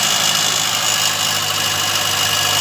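A classic Ford Transit Pinto motorhome engine idles steadily, loud and close, with a constant mechanical rattle running through the drone and no voices.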